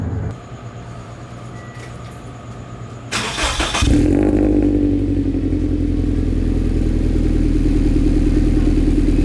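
A Scion FR-S/Subaru BRZ/Toyota 86 with a modified exhaust starts and revs, a brief sharp burst followed by a loud, steady droning idle close to the listener, with no talking.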